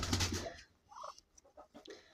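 Ducks and guinea fowl in a poultry yard give a few short, soft clucks and calls close by after a brief burst of rustling noise.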